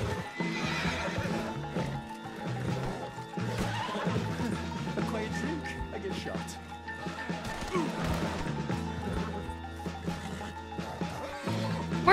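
A horse in the video game Red Dead Redemption 2 neighs and whinnies, with hooves clip-clopping and some in-game clatter and crashes. A voice talks intermittently over it.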